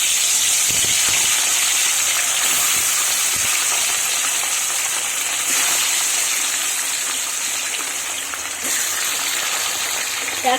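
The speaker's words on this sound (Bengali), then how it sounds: "এবার মাছটা ভেজে নেব।" Fish frying in hot oil in a pan for a fish curry gives a continuous loud, hissing sizzle that holds steady throughout with no pauses.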